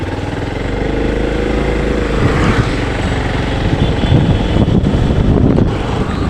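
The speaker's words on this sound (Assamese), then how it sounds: "এয়া আমাৰ Assam motor blogger Suman bike চলাই আছে" A motorbike ridden along a village road en route to Tihu, its steady engine drone loud and continuous with heavy wind rush over the microphone throughout, no talking.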